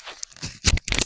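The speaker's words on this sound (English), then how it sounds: "Let me cover the mic." A hand covers the microphone, making muffled rustling and crunching bumps right against it, a few short bursts of scraping noise close up.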